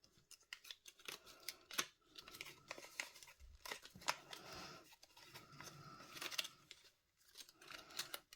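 Paper folded and creased by hand for an origami bunny: close, quiet crinkling, rustling and sharp crease strokes in irregular bursts with brief pauses.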